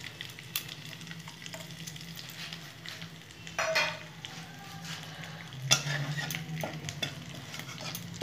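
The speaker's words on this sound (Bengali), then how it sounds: "ফোড়নটা সুন্দর করে ভাজা ভাজা হয়ে গেছে" Whole spices (cumin, cloves, cardamom, cinnamon sticks) and bay leaf fry in hot oil with a steady sizzle, as a spoon stirs and scrapes the pan in a few louder bursts.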